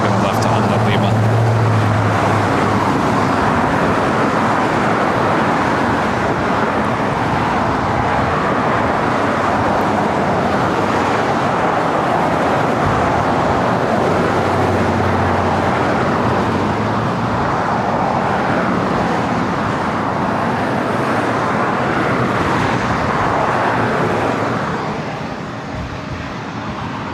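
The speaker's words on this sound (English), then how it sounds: "I don't mind the traffic at LAX" Steady road traffic roars on at LAX airport, a dense, continuous rumble of passing vehicles that holds loud throughout and eases slightly near the end.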